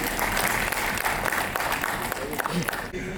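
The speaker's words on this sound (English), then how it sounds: "Let's welcome both of them with a huge round of applause, ladies and gentlemen." Conference audience at a startup funding fireside chat gives a round of applause, dense clapping throughout with a host's voice talking over it before it thins near the end.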